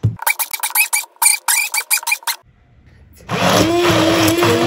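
A blender pureeing firm tomatoes into a smooth paste starts up after a short quiet pause and then runs as a loud, steady whir, following a burst of rhythmic clattering sounds.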